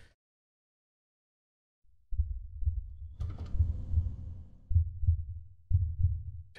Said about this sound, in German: Wieso habe ich jetzt plötzlich Herzschlag?